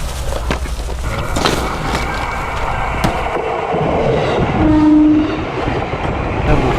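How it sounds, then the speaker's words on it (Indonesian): A train rumbles past close by with clattering wheels and a brief horn blast, loud and continuous throughout. "Jadi kereta ini tiap hari begini"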